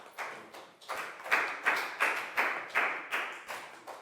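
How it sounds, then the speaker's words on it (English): Children in a Year 4 English lesson clap for a classmate, and their applause comes in a string of evenly spaced, loud bursts, each one fading before the next. "Rounds of applause for Pat"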